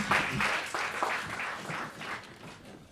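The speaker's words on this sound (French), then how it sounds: "On applaudit très fort, mesdames et messieurs, Sylvain Roy." An audience at a poetry event claps loudly and enthusiastically, rapid overlapping applause that swells early and gradually eases off.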